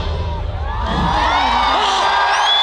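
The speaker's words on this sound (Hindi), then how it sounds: "जोरदार तालियों से" Loud, continuous cheering and shouting from a large event audience swells and holds steady, with whoops rising over a dense crowd roar.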